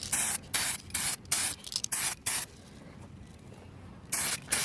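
Short bursts of leftover 2K clear coat sprayed onto a repaired, previously leaking gas tank: about seven close, loud hissing blasts, each roughly a quarter to half second long, separated by short pauses and a longer quiet gap near the end.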